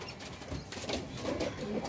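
Fancy shallow pigeons in a loft give soft, low cooing calls near the end, set against a steady background hiss.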